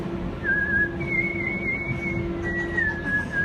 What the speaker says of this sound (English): Do the whistle, do the whistle.